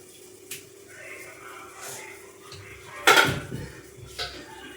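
Dishes clink lightly, then a sharp clatter of plates and cutlery rings out, followed by another small clink, with faint voices in the background.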